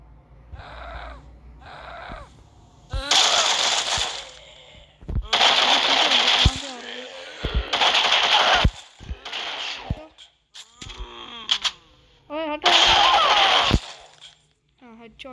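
Gunfire in a zombie video game: several bursts of loud, sharp shots in clusters, separated by short gaps, with game effects and clatter between them.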